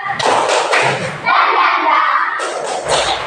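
A school class stands and performs a rhythmic spirit clap, sharp hand claps and thumps in bursts interleaved with children's voices chanting along, loud and close.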